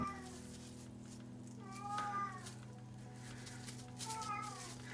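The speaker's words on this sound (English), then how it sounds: "You can hear my cat crying in the background" A cat meows plaintively twice, a few seconds apart, over a low steady hum in a quiet room.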